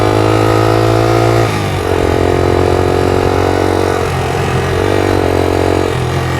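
A 1982 Honda XL80S trail bike being ridden over grass, its small single-cylinder engine droning loud and close with a few dips and surges of throttle.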